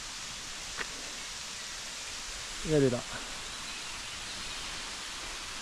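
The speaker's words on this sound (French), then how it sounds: "La cascade four à chaud" The Vessière waterfall, a mountain cascade along the GR 400 trail, gives off a steady, distant hiss of rushing water, with a short spoken phrase over it.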